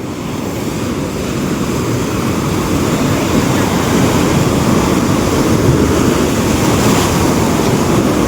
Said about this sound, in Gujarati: આ જો પાણીની કેવી મોજ આવે યાર. આ મોજા જો